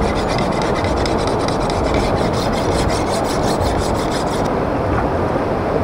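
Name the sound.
sharpening a bolo machete at the river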